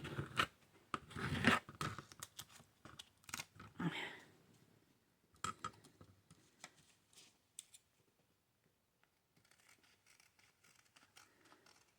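Scissors snipping paper for junk journal ephemera, a burst of quick close cuts at the start, then sparser, softer snips and rustling with quiet pauses between.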